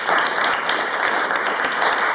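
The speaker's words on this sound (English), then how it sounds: "we got to clap it up for Danielle and United Way." Audience applause at a community spoken-word event, a steady, close, lively round of many hands clapping with no pauses, loud and without voices over it.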